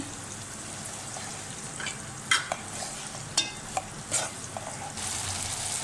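Ginger garlic paste sizzling in a hot pan with onions, a steady frying hiss broken by a few sharp stirring scrapes and clatters, close by and without voices.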